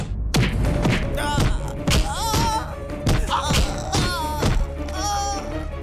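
Repeated dull thumps of a man being beaten in a comic period drama set in a royal court, several heavy blows in quick succession over a steady music bed, with brief cries and exclamations between hits.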